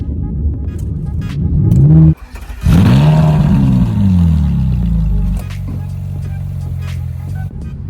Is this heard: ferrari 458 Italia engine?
yes